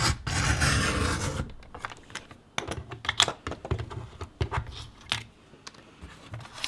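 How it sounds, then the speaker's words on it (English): A craft knife cutting a plastic planner sticker divider gives a series of short scraping, clicking cuts in irregular bursts, close and fairly crisp, after a longer rasping rub at the start. "There's a little circular like piece of plastic in the knife that fits in this gap, and then you just cut."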